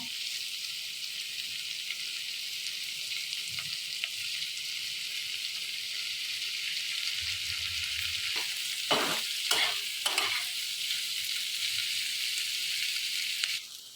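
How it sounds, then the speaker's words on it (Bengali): Capsicum and vegetables with turmeric and salt frying in a pan, a continuous close sizzle with a cluster of scraping stir strokes partway through and no talking. "আমার ফ্রাই করাটা হয়ে গেছে"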